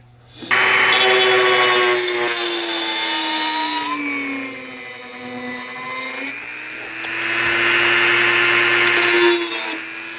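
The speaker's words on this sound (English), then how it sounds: "I've got this bit on my rotary tool. It's just kind of just a burr, a straight burr." A rotary tool fitted with a straight burr carves a channel in a wooden 7-inch minnow lure, clearing wood down to the wire. It makes a loud, close, continuous high-pitched whine that rises and dips in pitch as the load changes.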